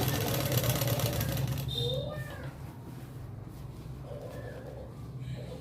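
A sewing machine stitches a sleeve onto a ready-made dress, running as a steady mechanical whir for the first couple of seconds before stopping, then someone talks over quieter background.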